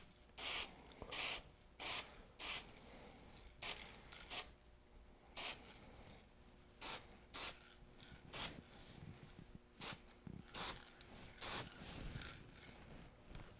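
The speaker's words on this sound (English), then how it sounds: "of spray lacquer from the hardware store" A hardware-store spray can of lacquer mists a flat guitar peghead in about a dozen short, hissing bursts, close and fairly quiet, with brief pauses between the light coats.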